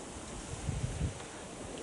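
A strong, nasty wind blows outdoors where pigeons fly, a steady low roar of microphone buffeting with a couple of brief gust peaks.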